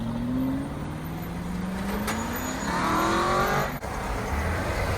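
Lamborghini Revuelto V12 car driving slowly, a smooth engine drone rising gradually in pitch as it gently accelerates, then a brief gear shift and steady cruise, moderately near with no talk.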